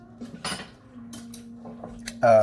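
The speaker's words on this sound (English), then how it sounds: "I'm whisking." Metal whisk clinking and scraping in a pan of gravy thickened with flour, a few short bursts of clatter over a low steady hum, ending in a louder scrape.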